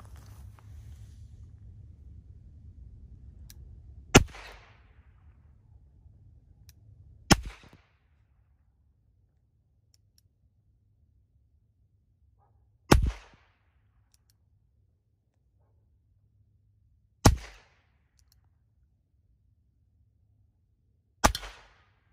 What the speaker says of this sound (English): I'll do a couple shots in double action and then do the remainder in single action.